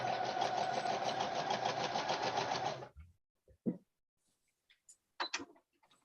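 Sewing machine stitching pieces of fabric together, running in a steady fast whir for about three seconds before stopping, followed by a few faint clicks and handling noises.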